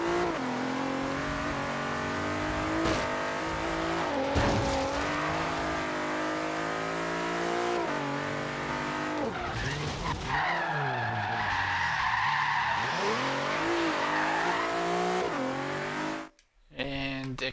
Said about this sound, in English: I mean, come on, you know this thing can drift when it's heavy as it is.